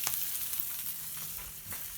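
Cajun-style smelts frying in a pan give a soft, continuous sizzle and crackle with a few light clinks, close but fairly quiet.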